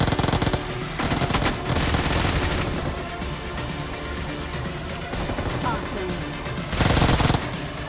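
Automatic gunfire in PUBG played on an iPad, with sustained loud rapid bursts that swell louder near the start and again near the end, a dense close fusillade with a voice faintly underneath.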